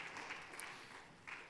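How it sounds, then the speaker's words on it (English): Church congregation applauding during a morning service, a faint, distant patter of clapping that swells and fades, with no voices over it. "Can you applaud and thank Jesus for the gift of these friends as they come up this morning"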